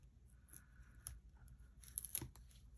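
Backing being peeled off strips of tear and tape adhesive during a papercraft card project, a few quiet crackling pulls and scratchy rips, near and soft with no talk.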